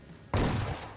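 A single loud, close shotgun blast from a video game hits sharply and decays quickly, with a faint quiet lead-in beforehand.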